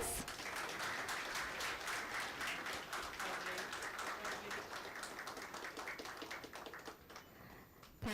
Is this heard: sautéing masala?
no